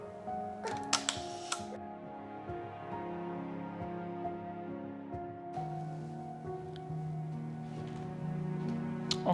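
A couple of sharp mechanical shutter clicks from a Mamiya C330 medium format camera sound close by early on, over a steady tonal hum that continues with no speech.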